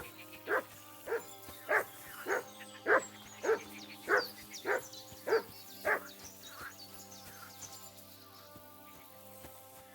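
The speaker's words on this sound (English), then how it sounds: "I think he's just barking at the boar." A dog in Kingdom Come Deliverance 2 barks at a boar: about nine evenly spaced barks at moderate distance, fading out toward the end, over a low steady ambient hum.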